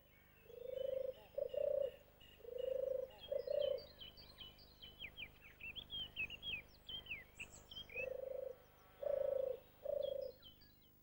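A turtle dove gives its soft purring song in repeated rolling phrases, clear and fairly close, while other small birds chirp and twitter faintly in the background.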